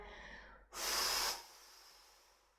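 A single sharp, breathy exhale during a core workout, close and brief, then fading into quiet room tone.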